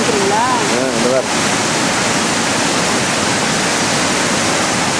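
Water rushes steadily at Muktinath in Nepal, a loud, continuous close-up wash of flowing water. A voice talks briefly over it at the start.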